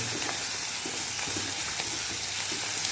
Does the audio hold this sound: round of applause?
no